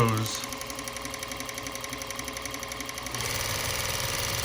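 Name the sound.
Juki 1541S sewing machine winding bobbin thread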